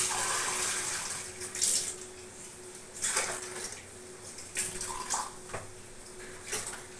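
Water is poured into a pot in a home kitchen for three cups of tea, a soft splashing stream in uneven bursts with faint clinks of utensils, fairly quiet and close.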